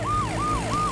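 An ambulance siren in an animated children's show wails, rising and falling in quick repeating sweeps, loud and close, over a low engine hum.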